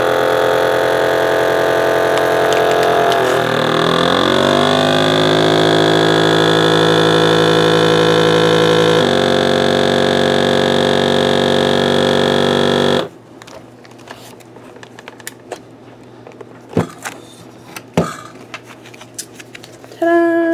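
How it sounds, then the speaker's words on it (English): A countertop vacuum sealer pulls the air from a bag with a steady motor hum whose pitch shifts as the bag tightens, runs on for several seconds, then cuts off, leaving a few sharp clicks and small handling noises. "press right here, and it sucks the air out, and then it should seal it"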